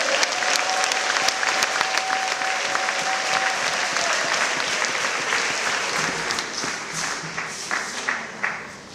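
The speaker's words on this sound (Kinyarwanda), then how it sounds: "Komera Yesu amashyi dusenge" A church congregation applauds during a worship service, a dense, sustained wash of many hands clapping that continues for several seconds, thinning slightly with a few louder individual claps toward the end.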